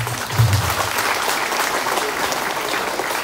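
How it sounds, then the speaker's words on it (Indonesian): Congregation applauding at a thanksgiving Mass for a religious brother's perpetual vows in Malaka, Indonesia, a steady wash of many hands clapping, loud and sustained, with a brief voice at the start. "Mari kita tepuk tangan untuk"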